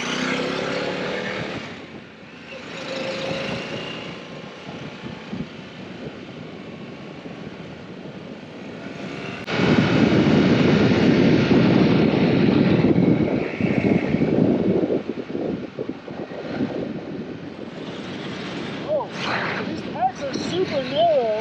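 A Harley-Davidson Pan America Special motorcycle rides on-road, its engine droning under heavy wind rush that swells louder midway as it speeds up, while a rider talks over it.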